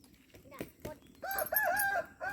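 A native country rooster crows close by, a drawn-out cock-a-doodle-doo following a couple of short clucks, with faint voices in the background.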